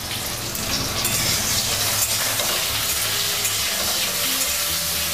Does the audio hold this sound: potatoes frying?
yes